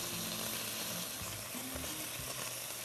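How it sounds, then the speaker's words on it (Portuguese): Beef for rolled beef rolls fries in a pan, a continuous close sizzle with soft stirring scrapes and no talking. "E aqui nós vamos fritando,"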